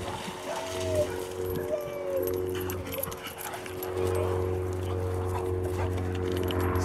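A pit bull at a dog training session whimpers and yips in short high bursts over a constant low mechanical drone, with a person talking at times.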